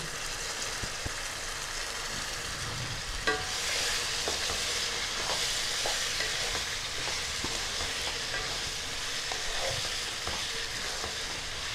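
Cauliflower cooks in a thick butter masala in a pan, with a low simmering sizzle broken by repeated spatula scrapes and stirring clatter, close and fairly quiet.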